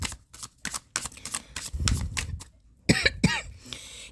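Tarot cards are shuffled by hand close up in quick bursts of crisp riffling and tapping, with a short pause and then a brighter final run of card flicks.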